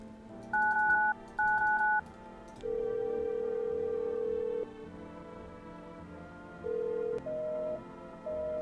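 Telephone keypad tones from a phone in a horror video game: two short paired beeps, a long steady tone, then a few more brief tones, clean and close with no talking.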